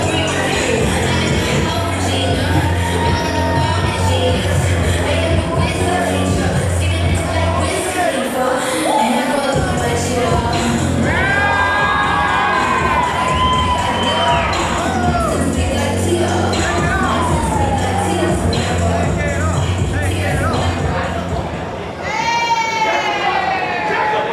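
A wrestling crowd at an independent show cheers, shouts and whoops loudly and continuously, with rising yells and calls throughout and a commentator's voice running over the noise.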